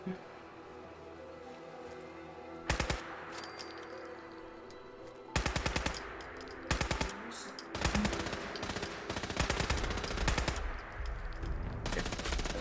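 Gunfire in Fallout 4 rattles out in loud rapid bursts, several separate volleys of automatic shots with pauses between, set against a low hum of background ambience.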